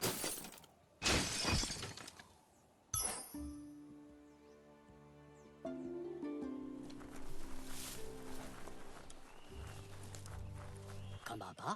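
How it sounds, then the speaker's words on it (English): In the video game Biomutant, a box is smashed: loud cracking, shattering hits near the start, followed by layered sustained game music and ambience. "You shouldn't worry about smashing up the box."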